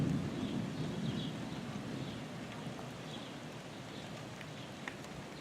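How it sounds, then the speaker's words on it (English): Rain falls on a roof during a passing storm, a soft, steady hiss with faint scattered drips, fairly quiet and even throughout, with no voices. "See, it's been raining on our roof there."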